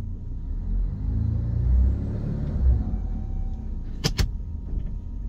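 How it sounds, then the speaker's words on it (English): A car engine rumbles low and swells briefly as it is given a little gas after shifting into drive, then settles, with two sharp clicks or knocks near the end. "Now I'm going to shift into drive. I'm giving it a little gas."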